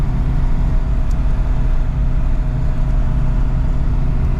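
Pontiac with a 427 engine pulling hard at about 50 mph in what sounds like second gear, a loud, dense, continuous engine roar heard from inside the car without talk.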